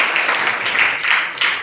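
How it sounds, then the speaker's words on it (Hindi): Audience applause at a village prize ceremony, a steady wash of clapping from many hands filling the whole moment without a break, loud and close. "और एक बार और ताली बजाइए।"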